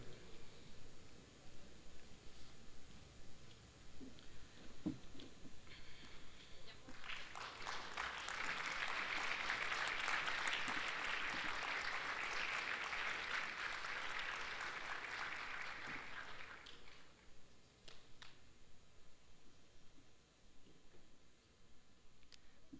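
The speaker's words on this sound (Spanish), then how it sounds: "Despidamos al secretario de Hacienda y Crédito Público con un fuerte aplauso" Audience applause at a business conference on fiscal reforms in Nuevo León, swelling into a steady, dense wash of clapping for several seconds before fading back to a quiet room.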